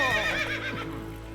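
Roach, Geralt's horse in The Witcher 3: Wild Hunt, whinnies in a loud, close neigh with wavering pitch, fading over about a second, with faint in-game ambience beneath.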